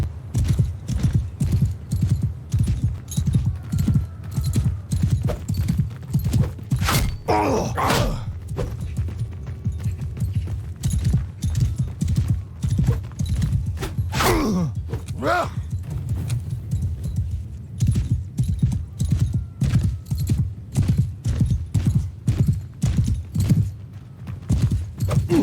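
Horse hooves gallop in a steady, rapid clip-clop rhythm throughout Mount and Blade Bannerlord horseback riding, loud and continuous, with a couple of brief whinny-like calls rising above the hoofbeats.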